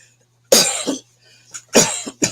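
Two harsh coughs close by, each a sharp burst with a short trailing rasp, separated by a brief pause in otherwise quiet surroundings.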